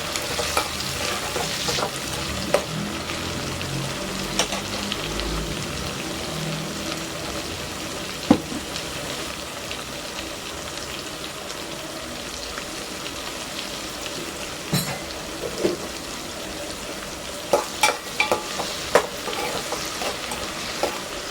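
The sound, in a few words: tomatoes and onions with salt sautéing in a pan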